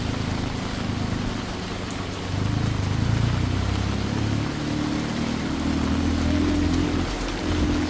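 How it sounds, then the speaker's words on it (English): Heavy rain pours down during the rainy season in Bangkok after a trip off the river, a dense continuous hiss of drops with a low rumble beneath that swells after a couple of seconds, loud and steady. "as you can hear, the rain is laying down"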